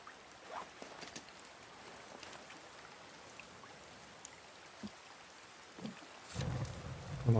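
Steady rain falls in the survival video game The Forest, a soft continuous patter with scattered drips and light taps, followed near the end by a louder rustling burst.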